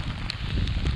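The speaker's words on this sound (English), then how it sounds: "really freaking windy" Steady low roar of strong wind buffeting the microphone at a campsite, loud and continuous, with a faint rustle and no talking.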